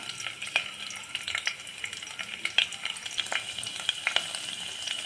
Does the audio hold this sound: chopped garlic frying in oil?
yes